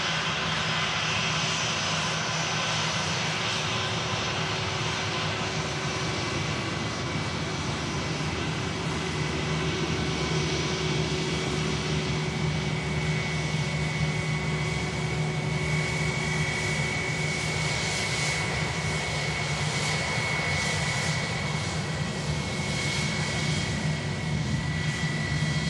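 A jet airliner arriving from Frankfurt taxis nearby at an airport, producing a loud, steady engine roar and whine that holds for the whole stretch with no talking.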